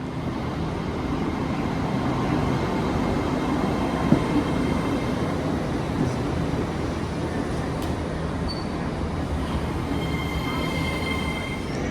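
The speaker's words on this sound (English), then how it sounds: "That's my train that took me to Darlington." Steady rumbling roar of a passing train with rail noise and faint squeals, continuous and fairly loud throughout, no talking.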